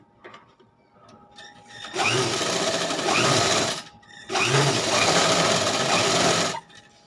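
Two long bursts of a sewing machine stitching a blouse, each running steadily for about two seconds, loud and close, with a short pause between them and faint handling noises before the first run.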